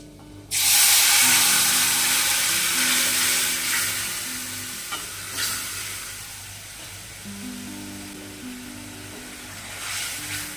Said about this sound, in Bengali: আদাটা তিরিশ সেকেন্ড মতো ভেজে নেব